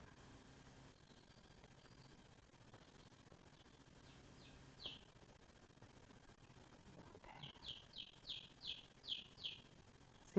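A bird calls nearby, first a few scattered chirps, then a quick run of repeated bright tweets, over a quiet indoor room tone with no talking.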